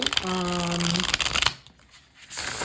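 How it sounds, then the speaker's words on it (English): A tarot deck, a 1930 Grimaud Tarot de Marseille facsimile, being riffle shuffled, a dense papery flutter up close with a tonal hum beneath, then a brief near-silent pause before the card noise resumes. "I really prefer to be able to riffle shuffle where I can"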